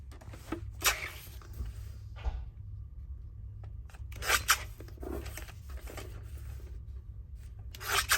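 Scissors trim a sheet of paper for a tall document journal cover. Short crisp snips and rustling come in bursts with pauses, close and quiet, no talking.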